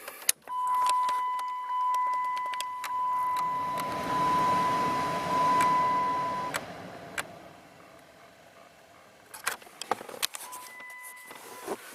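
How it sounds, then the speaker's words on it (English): Chrysler car blower fan running with the key on, a steady whirring airflow hum inside the cabin for several seconds, accompanied by a tonal electronic beep and followed by a few sharp clicks. "Now we're going to reconfirm that our blower is working correctly."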